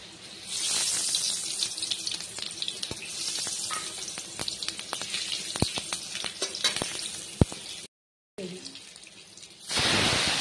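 Fish sizzling steadily in hot oil in a pan for a Bengali fish curry with cauliflower and potato, with scattered crackles and utensil clicks, a brief silent gap, then a louder burst of sizzle near the end.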